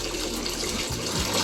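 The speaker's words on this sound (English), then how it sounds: "we're going to open up the water valve and watch the water go through these filters" Water gushes from a bathtub tap opened wide while fresh water runs through new household filters during pipe flushing, a loud, steady rushing with a low gurgle near the end.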